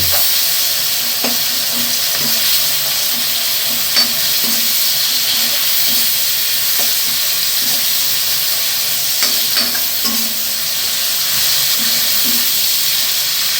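Chopped tomatoes hit a hot pan and fry with a loud, steady sizzle and hiss that runs unbroken throughout, with faint stirring knocks beneath.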